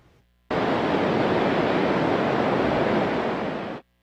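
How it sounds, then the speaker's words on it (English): Water rushing over the Hinckley Dam during an afternoon release to lower the reservoir, heard as a loud, steady broadband roar that begins abruptly and holds constant for about three seconds before cutting off, with no voices. "that's water rushing over the Hinckley Dam this afternoon"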